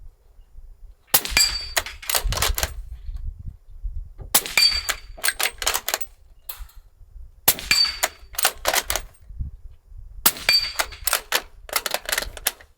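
A suppressed rifle firing at steel targets outdoors, in four bursts of sharp cracks, each round followed by a bright metallic ring from the steel, with quiet pauses between the groups.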